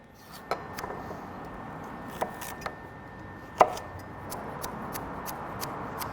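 Carrots are diced with a knife on a cutting board, with sparse, irregular chopping taps of varying loudness over a quiet kitchen background.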